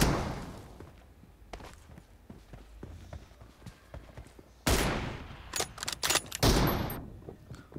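Gunshots in a 1v1 M24 team deathmatch mobile game played on iPad: sparse sharp shots and light footsteps at first, then a louder cluster of closely spaced shots toward the end, with no talk.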